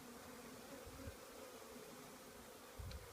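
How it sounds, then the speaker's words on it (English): Bees buzzing around a hive in a farmyard, a faint steady drone of many insects at a low level, with a couple of brief louder thumps from nearby. "they're not bunnies, they're bees"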